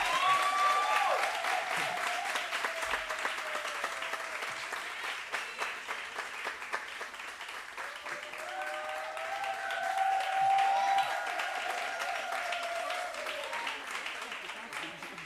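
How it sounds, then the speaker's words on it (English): Audience at a women's leadership conference breaks into steady, sustained applause filling the hall for the full stretch, with a voice briefly talking over the clapping. "I'm going to ask you if you could just give a nice round of applause as Professor Mabandu comes."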